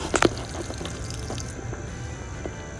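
A small stream trickles through a large leaf into containers, with a few brief, brighter splashes near the start, then a faint, steady flow of water running on alone.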